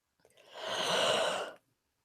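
A person yawns once, a single drawn-out breathy exhale lasting over a second, close and isolated against silence.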